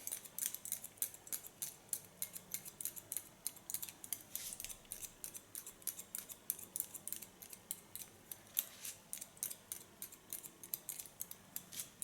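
Scissors cutting hair for a short pixie cut, a rapid continuous series of crisp close snips with a steady rhythm and short pauses, no talking.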